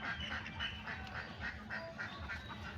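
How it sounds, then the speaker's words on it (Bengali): Ducks quacking near a village pond, a rapid string of nasal quacks from a few birds fairly close by, overlapping in quick succession against a quiet rural background. "পুকুরে আসতে চায় না হাঁস।"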